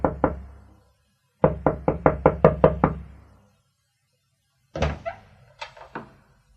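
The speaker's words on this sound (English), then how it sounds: "there was an urgent knock on my door" Urgent knocking on a wooden door, close and loud: two raps, then a rapid run of about eight hard knocks, a pause, and a final uneven burst of four more.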